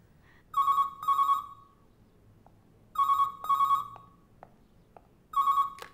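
A telephone rings in repeated double bursts of a bright electronic tone, three ring cycles spaced about two and a half seconds apart, clear and close in a quiet room with faint clicks between.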